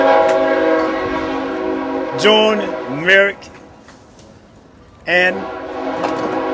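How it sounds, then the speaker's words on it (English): A train horn sounding outdoors at a Black history event, three loud separate blasts, two close together then a third after a pause, over a steady rumble of the passing train, with a voice briefly heard. "I can't compete with the train, y'all."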